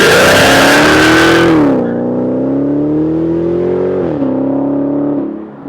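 Dodge Challenger Hellcat engine revving loudly: a rising roar that drops back to a deep, throbbing idle-like drone with a second brief rev before fading, close and without talk.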